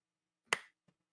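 A single sharp hand clap swats at a gnat: one crisp, close smack that decays quickly into near silence, with only a faint small knock afterward.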